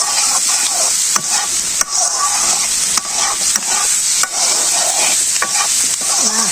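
Potatoes mixed with chili powder, green chilies and spices in a pan of mustard oil, stirred briskly with a steady loud sizzle and repeated scraping strokes, close up, no talking.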